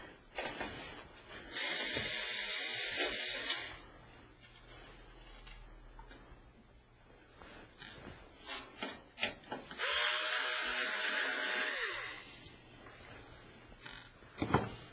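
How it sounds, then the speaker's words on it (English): An electric screwdriver removes screws from a PC case, giving two sustained whirring bursts with light rasping and scraping between them, recorded close and with no talking. "use my electric screwdriver and take these screws off"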